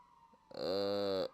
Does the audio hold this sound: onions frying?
no